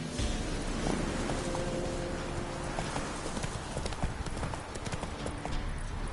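Roach, a horse in a video game, clip-clops along in a fast, steady run of hooves, moderately close, with occasional faint game sounds in the background.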